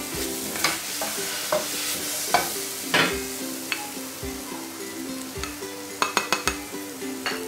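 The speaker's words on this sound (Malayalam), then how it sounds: "ഇതേ പാത്രത്തിൽ തന്നെ നമുക്ക് തേങ്ങ കൂടെ വഴറ്റിയെടുക്കാം." Grated coconut sautéed in ghee in a pan, a steady sizzle with repeated scraping and stirring strokes and occasional light clinks of a utensil against metal, close and continuous with no talking.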